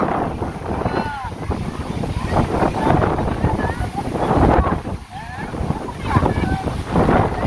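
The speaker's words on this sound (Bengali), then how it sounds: "আজকে বাতাস থাকছে বাবা রে ঝড় শুরু হয়েছে" Gusty wind at the onset of a storm roars steadily in rising and falling surges, buffeting the microphone, with faint voices underneath.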